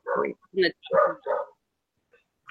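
A dog barks four times in quick succession, then goes quiet with only faint sounds after, coming over a video call at moderate volume.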